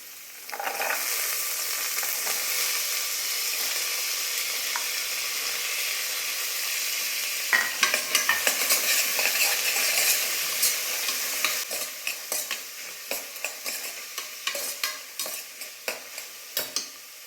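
Avarekai field beans fry and get stirred in a pan, giving a steady loud sizzle and hiss that runs throughout, with sharper scraping strokes of a spoon growing more frequent toward the end.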